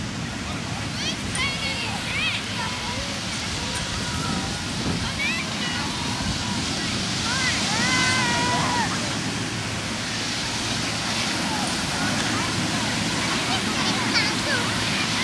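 Surf and wind roar steadily at Hillary's Beach in Perth, Western Australia. Children's voices and chatter come and go over the constant wash of the waves.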